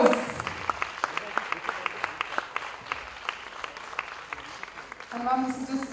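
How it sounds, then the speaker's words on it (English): Audience at a women's international film festival closing ceremony applauding with steady, rhythmic claps over a murmur of crowd noise, with voices rising near the end. "Come on, ladies and gentlemen. A huge round of applause."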